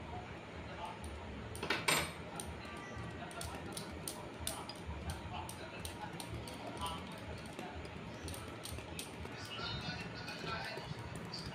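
Spoon mixing chocolate cake batter in a bowl, quick repeated clicking and scraping taps against the bowl, fairly faint, with a voice talking over parts of it.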